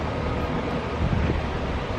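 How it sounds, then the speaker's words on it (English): Wind in a vegetable garden buffets the microphone with a loud, continuous rumbling roar for the whole moment, with no voices. "It gets very windy here"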